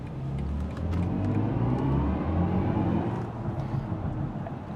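BMW i4 M50 electric sedan accelerating hard: a steady, fairly loud whirring drive tone with road and tyre rumble, rising smoothly over a few seconds without gear changes.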